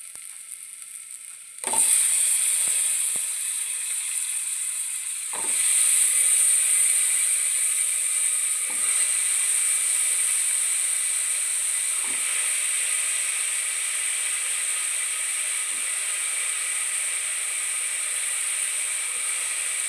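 Potatoes and peas fry in hot oil in a pan, a loud, constant sizzle that swells when the food goes in, with a few scattered stirring knocks and no voices.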